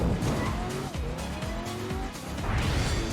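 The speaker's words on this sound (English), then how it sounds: "Everyone's got their engines revving." Racing car engines rev and roar in the Cruis'n Blast arcade racer on a Rio de Janeiro track, loud and continuous with shifting engine pitch, tire squeals and a rising whoosh near the end.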